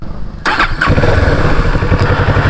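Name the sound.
motorcycle engine starting, exhaust note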